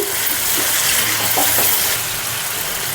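Salt and turmeric being stirred into a frying pan of raw lentils for Andhra-style gongura pulusu, a steady close sizzle with soft scraping stirs running throughout, no voices.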